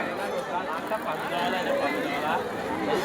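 Crowd chatter fills a busy outdoor market, with a dense, steady babble of many voices and nearby talking throughout.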